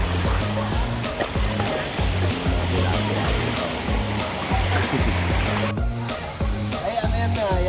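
Gentle sea water at Station 2 on Boracay beach laps and washes steadily, with a low rhythmic pulsing underneath and faint voices mixed into the broadband wash throughout.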